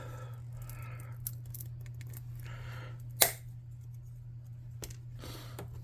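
Small hand snippers clip through a square wooden dowel, giving one sharp, loud crunching snap near the middle, with a softer snip later, over a steady low hum.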